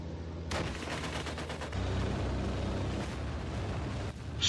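Stuka dive bomber attack in the WW2 Online game, a sudden roaring blast followed by a rapid rattling burst and sustained heavy rumble, loud and dense, ending with a sharp crackle.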